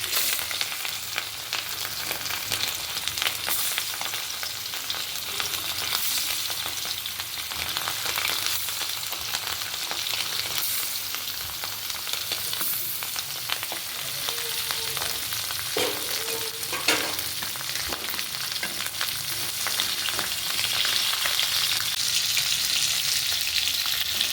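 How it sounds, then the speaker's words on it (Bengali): Hilsa fish frying in hot oil in a wok, a dense, continuous crackling sizzle that stays fairly loud and even throughout, with a few small pops and no speech. "আমি কড়াইতে তেল দিলাম এবার মাছটা দিয়ে দিচ্ছি মাছটা ভেজে নিই"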